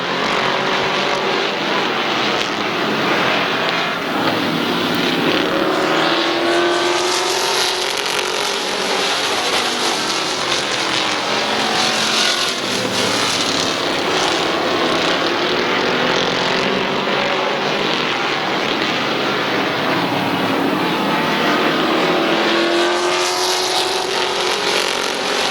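Race cars at Midvale Speedway roar continuously after the green flag, engines droning loud and steady with rising and falling pitch as the pack passes, with no pause throughout.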